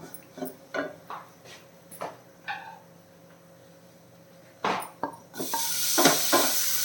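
Tomatoes are tipped into a pan after bottle gourd and start to sauté, heard as scattered utensil clinks and taps. A rising, close sizzle builds and holds near the end.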